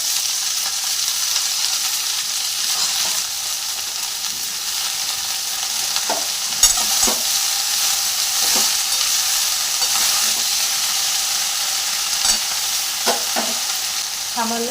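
Leafy greens added over onions fry with a continuous hiss in a pan, punctuated by occasional sharp scrapes and knocks of a spatula stirring them, close and steady throughout.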